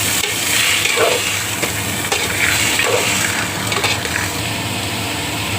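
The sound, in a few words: soaked peas sautéing with onions in a pan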